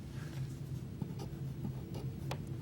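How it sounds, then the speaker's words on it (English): Pen writing a number on paper, soft close scratching strokes over a steady low hum, no talking. "So I'm going to write that right here."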